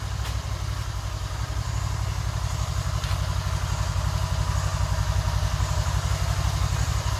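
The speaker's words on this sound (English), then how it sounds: "Okay, our pump is working." An aquarium pump running steadily during pond and tank cleaning, a continuous low hum close by with no pauses or talk over it.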